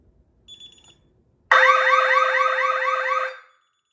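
A DSC Neo security panel goes into alarm during a system test, a loud warbling electronic siren that starts suddenly after a faint beep and runs for nearly two seconds before cutting off.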